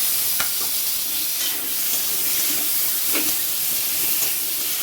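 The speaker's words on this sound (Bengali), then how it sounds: "মশলাটা ভালো করে কষে নেব" Spices stirred and frying in a pan for a fish curry with taro: a steady close sizzle and hiss with a few scraping stirs, no talking.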